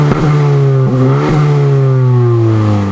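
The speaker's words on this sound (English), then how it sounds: "Even though the Si has a small little 4-cylinder engine, the exhaust really isn't that bad." A 2018 Honda Civic Si four-cylinder engine revs up hard in quick blips, then holds a loud, throaty exhaust drone that slowly falls in pitch.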